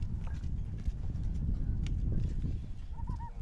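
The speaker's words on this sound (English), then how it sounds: "she's got a fast little horse here" A fast horse's hooves in a small high school rodeo arena during a pole-bending run, drumming clip-clops over a steady crowd and arena murmur, with a brief voice near the end.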